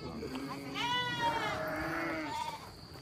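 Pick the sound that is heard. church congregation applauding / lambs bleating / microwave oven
lambs bleating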